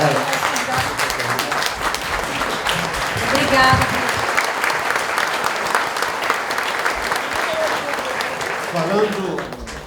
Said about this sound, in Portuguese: Vou pedir para todos se levantarem para bater palmas.